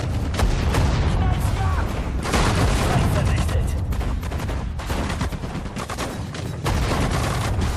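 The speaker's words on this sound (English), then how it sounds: "that's the anti-tank cannon again." In the World War II strategy game Sudden Strike 4, anti-tank cannon blasts and dense gunfire crackle through a loud, continuous battle din of overlapping shots and booms.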